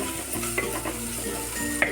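Onions sizzle in a hot pan as they are sautéed and stirred, with a steady frying hiss and occasional light scrapes of a utensil.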